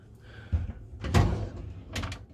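A wardrobe door in a Delano queen suite with a Strip view is opened, giving a few soft wooden knocks and a sliding clunk, close by and fairly quiet.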